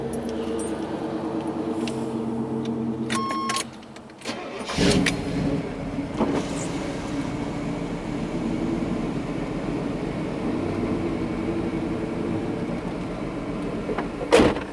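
A loud truck drives past, its engine roar rising and holding as a heavy, sustained rumble heard from a nearby car, with a brief dip and clunk early on.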